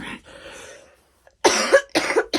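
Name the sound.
cough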